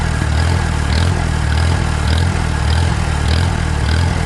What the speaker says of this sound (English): Full throttle, surging.